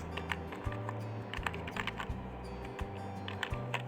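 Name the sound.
typing on a computer keyboard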